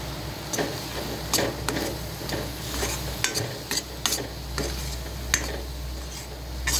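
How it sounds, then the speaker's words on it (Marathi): Curry masala roasting in a pan for a surmai fish curry: a low steady sizzle under irregular sharp ticks and scrapes of a spatula against the pan, close by, with no talking. "जराशी असं भाजू द्या।"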